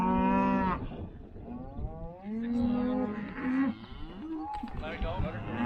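A calf loose in a cornfield moos loudly several times in a row, long drawn-out bawling calls heard close by, with faint background noise between them.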